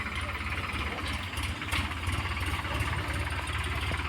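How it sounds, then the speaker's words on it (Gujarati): A tractor hauling a groundnut thresher on a farm gives a steady, loud, rumbling engine drone that holds even throughout, with faint background noise mixed in. "ઓકે હવે ટ્રેક્ટર આવે છે હલરને લઈને"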